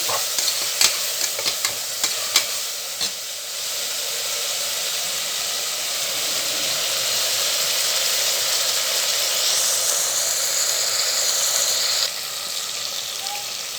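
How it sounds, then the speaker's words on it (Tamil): Chopped tomatoes sauté in hot oil for mutton biryani with a steady, close sizzling hiss. A few sharp utensil scrapes and clicks from stirring come early on. "தக்காளியும் போட்டு நல்லா வதங்கி வரட்டும்"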